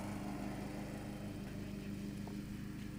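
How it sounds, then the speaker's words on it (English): A lawn mower engine runs steadily through a peaceful suburban scene in a surgery video game, a continuous mid-pitched drone at even loudness with no talk over it. "Look at the peaceful scene of the man mowing his lawn."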